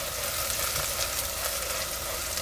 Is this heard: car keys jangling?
no